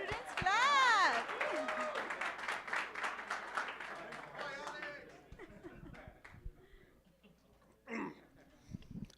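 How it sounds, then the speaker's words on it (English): Students in an audience at Penn State Harrisburg's Start Up Weekend final presentations clap in a dense burst of applause with voices over it, then the clapping fades out after about five seconds into a quieter room. "Clap, students, clap."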